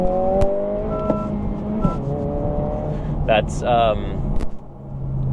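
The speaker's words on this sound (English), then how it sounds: "You can hear the rev match going on." A 2025 Honda Civic Si engine revving up and blipping between gears as it rev matches, a rising, humming tone heard from inside the cabin over steady road noise, with a person talking briefly.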